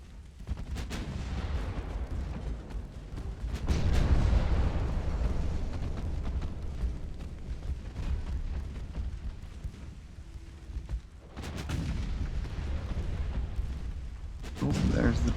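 Heavy naval gunfire and a torpedo hit in the warship game Ultimate Admiral: Dreadnoughts, deep booming blasts with rumbling tails, a big surge near four seconds and more rounds later, with some talk.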